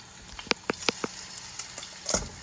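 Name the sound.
shrimp sizzling in olive oil in hot pan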